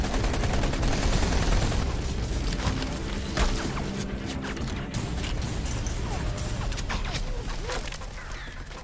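Gunfire from the Sunset Overdrive video game, a dense, continuous barrage of rapid shots and clattering mechanical bursts, loud and sustained throughout with faint voices beneath.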